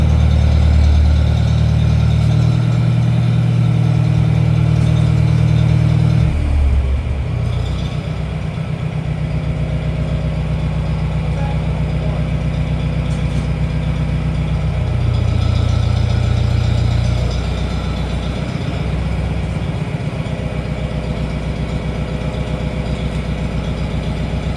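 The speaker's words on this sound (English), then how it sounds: "he got that tractor started" A John Deere 830 Industrial tractor's heavy diesel engine idles nearby with a steady low chug, briefly rising in speed twice before settling back to a rough, knocking idle.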